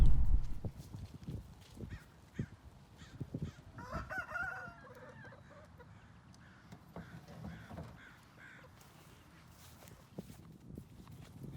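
Chickens and a rooster at a farm chicken coop, with scattered clucks and calls mixed with footsteps and light movement, fairly faint and distant.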